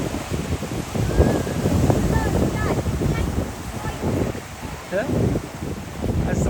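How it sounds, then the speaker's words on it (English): Ocean waves crash over rock pools on the coast of Fuerteventura near Los Lobos, with a steady roar and surf sloshing close by, buffeted by strong wind noise on the microphone. "As the waves come crashing over the rock pools"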